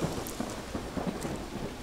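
Rain pours steadily in the video game Monochroma, a dense, even hiss of drops on surfaces with low rumbling thunder rolling underneath throughout.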